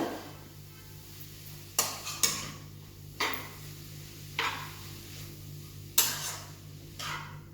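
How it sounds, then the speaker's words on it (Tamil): Carrots sautéed and stirred in ghee in a pan, heard as a series of sharp scraping and clinking knocks of a spoon against metal, spaced irregularly over a faint steady background hum. "நல்லா அந்த நெய்யில் அந்த பச்சை வாசனை, கேரட்டோட பச்சை வாசனை போகிற வரைக்கும் நல்லா வதக்கிக்கோங்க"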